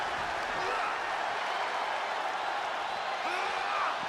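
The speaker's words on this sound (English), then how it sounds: "Crowd loving it." A wrestling arena crowd in an AEW video game cheers and applauds in a steady, dense roar that holds without a break, with faint voices blended into the noise.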